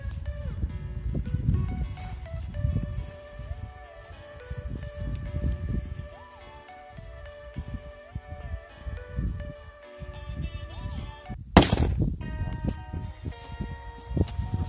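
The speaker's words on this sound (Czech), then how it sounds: "Takže další petardu tady máme, Magnum." A single sharp bang from a Magnum firecracker at New Year's Eve cracks out loudly after a stretch of quieter sound, leaving a brief fading rumble.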